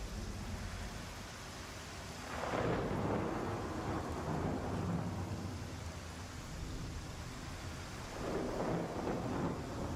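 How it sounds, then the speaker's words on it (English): Rolling thunder from a storm in the Star Citizen video game, two deep rumbling swells over steady rain-like noise, loud and enveloping, with no talking. "That thunder is beautiful."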